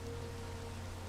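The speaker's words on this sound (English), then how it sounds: "And the rain is stopping, and the sun is coming up over this hill" Soft, steady Minecraft rain hisses faintly as an even wash of noise over a low constant hum.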